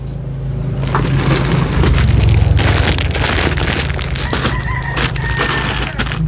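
Chickens clucking and squawking nearby over a busy, steady background hum, with occasional rustling and crunching sounds.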